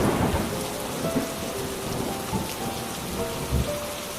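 Rain pours steadily onto surfaces while thunder rumbles low in several dull rolls across a stormy scene, with no voices.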